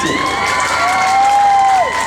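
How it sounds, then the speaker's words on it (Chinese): A temple festival concert crowd cheering and applauding in a short, loud burst with scattered shouts. "也请给我一个热情的掌声"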